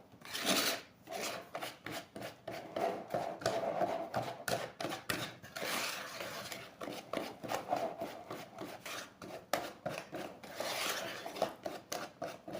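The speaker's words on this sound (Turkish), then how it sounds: "mikserimle değil de tel çırpacağımla devam edeceğim çırpmaya" Sponge cake batter being beaten by hand with a wire whisk, folded from bottom to top, gives a steady run of quick, rasping scrapes against the bowl, close and fairly loud, with no voices.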